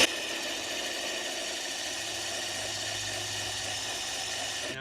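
A HighTech diamond lapping wheel grinds the bottom of a cup flat, giving a steady, dense whirring grind that holds evenly, loud and close, and then stops abruptly at the end.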